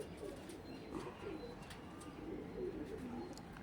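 Pigeons coo softly and repeatedly nearby, a low warbling murmur over faint background noise.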